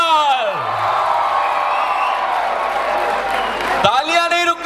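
Audience at a live talk-show event cheers, whoops and applauds continuously, with loud crowd noise throughout and a shout rising near the end.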